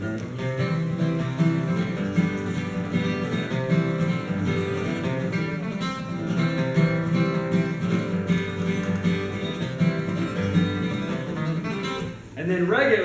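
Bluegrass-style rhythm guitar plays steadily throughout as part of a full band texture, with a dense continuous sound that dips briefly near the end before resuming.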